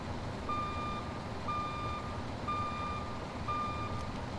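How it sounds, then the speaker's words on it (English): A high electronic beep repeats at a steady once-per-second pace, four evenly spaced tones over a low engine rumble, a reversing alert from a modded school bus in GTA 5. "Y'all hear that beeping?"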